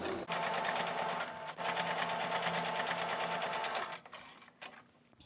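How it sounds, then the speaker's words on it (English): A sewing machine top stitching lace around the edge of a fabric bunting triangle, a loud fast steady whirring run with a short pause early on, then tapering into brief bursts before stopping. "we're going to go all the way around the triangle and we're going to top stitch."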